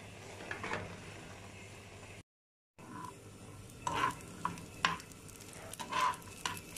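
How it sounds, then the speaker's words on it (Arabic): Coriander and garlic stirred into a pan for a spinach stew with minced meat and rice, a low sizzle broken by a short silent gap, then several distinct scraping and clinking stirs of a utensil against the pot. "رح زيد الكزبرة والثوم واخلط"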